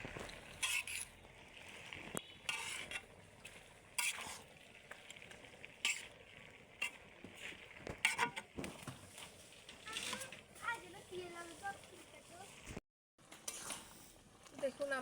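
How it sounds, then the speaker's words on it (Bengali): Leafy greens stirred in a pan over a village cooking fire: intermittent scraping and clinking of a utensil against the pan over a soft sizzle, with someone speaking between the strokes. "তো আমি একটু নেড়ে দিলাম।"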